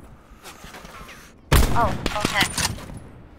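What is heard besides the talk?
sniper rifle gunfire in the video game Call of Duty Blackout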